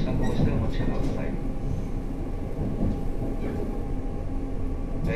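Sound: 485 series Hana train running

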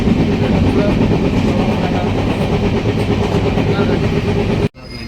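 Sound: train arriving at station

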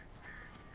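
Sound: crows cawing in the video game Alan Wake

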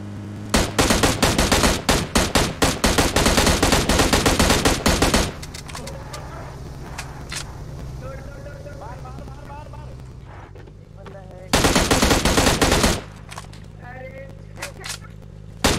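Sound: gunfire from a video game shooter

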